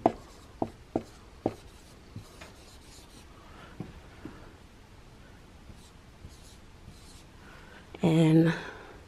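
A pen or pencil scratching across paper, a few sharp taps at first, then soft intermittent strokes, ending in a louder scribbling burst; close and quiet.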